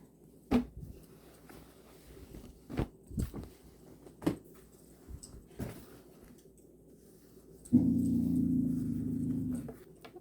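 A corgi gives a loud, close growl that rumbles like a revving motorcycle, a steady throaty snarl lasting about two seconds near the end, after scattered soft knocks and taps.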